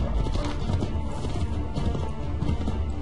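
Horse hooves clip-clopping in a rapid galloping rhythm with an occasional whinny, from the Assassin's Creed 3 video game, moderately loud and continuous with no talking.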